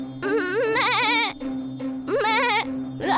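Two long, wavering goat bleats ring out close and clear in a narrated story, separated by a pause, over a steady humming drone.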